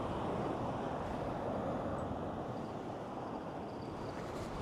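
Steady, loud wind rushes over breaking surf on a sandy Southern California beach, a constant wash of noise with no pauses and no voices.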